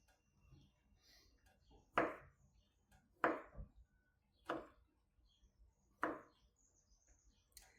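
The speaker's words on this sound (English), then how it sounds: "I'm trying to cut this up in a similar way, but it won't come out exactly the same because it broke" A knife cuts through broken tempeh on a board in a home kitchen, giving four or five separate sharp chops a second or so apart against a quiet background.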